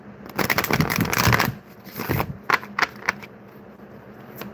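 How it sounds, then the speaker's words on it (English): Tarot cards being shuffled by hand, with a burst of rapid riffling followed by several shorter, crisp card flicks and taps, close and clear with no talking. "Let me get a better shuffle than that."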